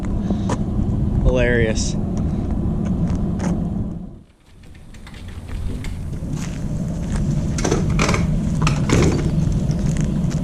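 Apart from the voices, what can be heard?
vehicle towing a race trailer arriving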